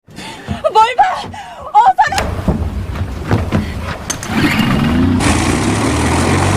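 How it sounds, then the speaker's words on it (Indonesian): A boat engine starts up after voices and laughter, then settles into a steady, loud running rumble with a rising hiss toward the end. "akhirnya mesin kembali berfungsi"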